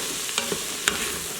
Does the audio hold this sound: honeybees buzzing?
no